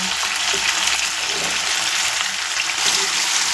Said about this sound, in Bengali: যতক্ষণ না আলু সব সবজি খুব ভালো করে ফ্রাই হচ্ছে ততক্ষণ আমি ভাজা ভাজা করে নেব